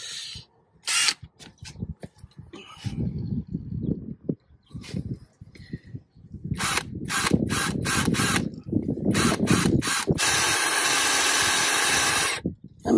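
A power drill whirs in repeated short bursts, then runs longer with grinding and chattering as the bit bites into a 6mm hole on a 1969 VW Bus 1500cc engine oil cooler conversion, loud and close.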